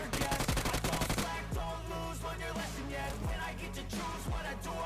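Rapid automatic gunfire from a BGMI match, a dense burst of shots in the first second followed by scattered heavier single reports and bursts over a busy game soundscape.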